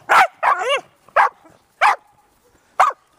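Corgis barking outdoors at a snowy winter cottage: about five sharp barks, one trailing into a whine, spaced irregularly with quiet gaps between them.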